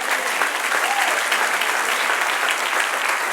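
Audience applause at a church sermon fills the space, a dense, steady wash of many clapping hands that holds at full strength for several seconds.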